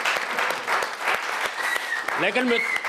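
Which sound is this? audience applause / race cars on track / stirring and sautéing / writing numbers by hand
audience applause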